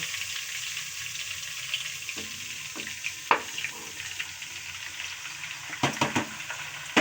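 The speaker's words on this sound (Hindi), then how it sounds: "तो अब हम इसमें डाल देंगे साग।" Saag frying in a pan with onion, ginger and garlic: a steady bright sizzle throughout, with occasional clinks and scraping stirs, close and fairly loud.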